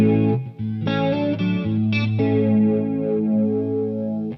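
A PastFx 80/A flanger pedal with its LFO turned up sweeps a sustained synth-like tone, giving a slow metallic whooshing shimmer through several changing notes, loud and close without talk.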